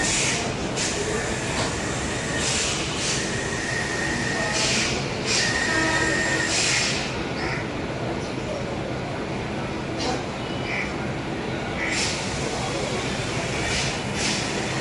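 A first-class AC Chennai local train running between Chennai Fort and Chennai Beach stations, with a steady rumble and hiss of wheels on rail throughout and brief high squeals and clatter rising over it.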